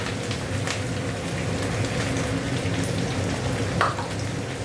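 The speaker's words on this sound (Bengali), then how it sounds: "আদাটা একটু ভাজা ভাজা হোক" Grated ginger sizzles in hot oil in a pan, a dense steady crackling hiss that runs loud and unbroken throughout, with a few brief pops.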